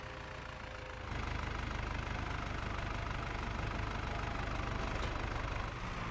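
Steady low rumble of a tractor engine idling in Farming Simulator 25, continuous and fairly loud for several seconds with no talk over it.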